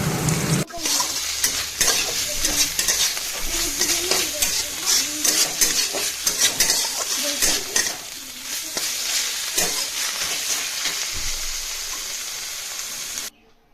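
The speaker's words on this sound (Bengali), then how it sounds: "পটলগুলো ভাজা হয়ে যাচ্ছে আমার।" Pieces of pointed gourd (potol) fry in a pan with a steady, close, loud sizzle, broken by scraping stirs and light clinks of utensil on pan, then the sizzle stops abruptly near the end.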